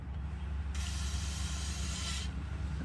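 CLP lubricant sprayed into an AR-15 9mm rifle during cleaning after a range day: one close, steady aerosol hiss lasting about a second and a half over a low background hum.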